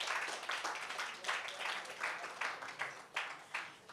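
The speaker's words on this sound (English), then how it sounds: "Please, let's give them another round of applause." Audience applause at a business roundtable session, a quiet, ragged patter of clapping that rises and falls in loose waves, fairly distant and thin throughout.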